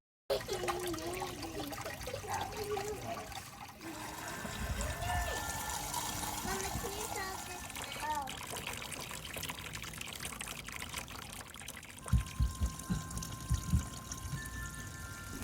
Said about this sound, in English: And then you can put it in the hot tub to start filling it.